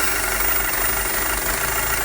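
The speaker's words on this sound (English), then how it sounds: "as the car is running you remove the dipstick and listen to the engine change" An Audi A4 2.0T with a lean-running fault idles with its oil dipstick pulled out, giving a steady close engine drone overlaid with a loud, even hiss of air.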